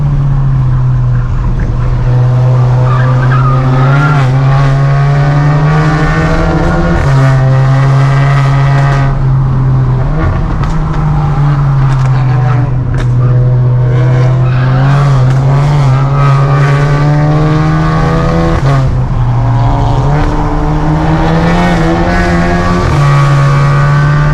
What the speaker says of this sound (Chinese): 一直在打漏，我很难控制油门。